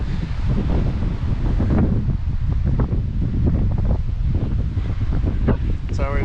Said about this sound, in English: It looks like it's going to be windy all day.